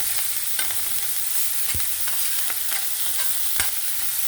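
Ponnaganti greens stir-fried in a pan with salt and green chillies: a steady sizzle runs throughout, with a few sharp scrapes and clinks of a utensil at irregular moments.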